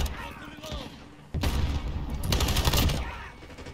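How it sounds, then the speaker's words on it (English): Automatic gunfire bursts from a PP19 submachine gun in the shooter game Chuckwalla, loud rapid volleys mixed with game noise and voices speaking over the action. "I shot him through the bars."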